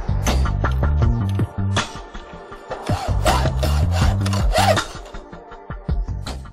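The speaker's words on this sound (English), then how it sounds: "we need to clamp it securely and cut it with a fine-tooth hacksaw." Fine-tooth hacksaw cutting clamped flexible conduit with a galvanised steel core: steady, loud back-and-forth rasping strokes in a regular rhythm, heard close up and alone, pausing briefly near the end.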